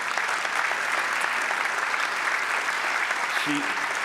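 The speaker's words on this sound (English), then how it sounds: "We're gonna clap for Seema." At an arts and public policy lecture, a large audience claps for Seema Reza, a steady, even wash of applause with no break, with a faint voice briefly audible near the end.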